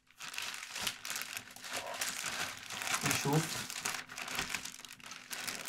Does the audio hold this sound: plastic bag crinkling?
yes